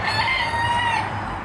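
A rooster at Bakhchisaray Zoo in Crimea crows once, a clear, drawn-out call lasting about a second against quiet background noise.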